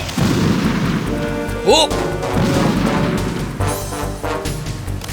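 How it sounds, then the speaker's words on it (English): Grenade explosions from a thrown grenade in the stealth game Metal Gear Solid 2, heard as booming crashes amid game effects, with a brief whistling sweep and a short shouted exclamation over the action. "Olga will tend to throw grenades."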